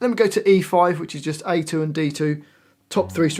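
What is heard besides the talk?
No everyday noise stands out behind the speech.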